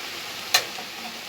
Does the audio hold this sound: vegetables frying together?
yes